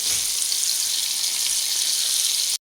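Pieces of KFC-style fried chicken fry in hot oil with a loud, dense, steady sizzle that runs unbroken until it cuts off abruptly near the end.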